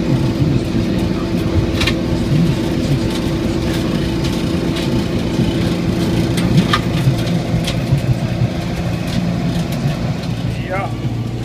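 A tractor with a mulcher in front works slowly through a field of phacelia, making a steady, dense engine drone mixed with continuous chopping clatter, close and unchanging throughout, with occasional faint clicks over the noise.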